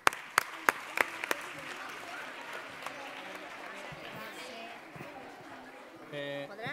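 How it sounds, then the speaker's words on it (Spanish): Audience applause at a poetry reading in Marbella, opening with a few loud, separate claps up close, then dissolving into a softer, diffuse patter of clapping, with voices rising near the end. "Venga, un aplauso para ella."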